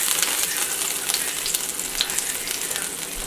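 Maple garlic pork sauce sizzles steadily in a pan aboard a boat, a loud, continuous bright hiss with occasional small pops and clicks of stirring throughout.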